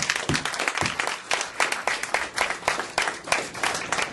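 A live audience in a lecture hall applauds itself for returning, a dense, steady burst of many hands clapping close by for about four seconds with no talking.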